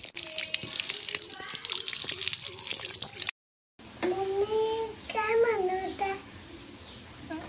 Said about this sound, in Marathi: आता ही काकडी धुवून घेते मी चांगली।